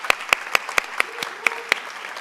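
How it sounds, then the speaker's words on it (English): Scattered hand claps ring out in a loose, uneven rhythm, about eight sharp claps over a couple of seconds, fairly close with no voices. "Can we clap for our almost everybody on this stage?"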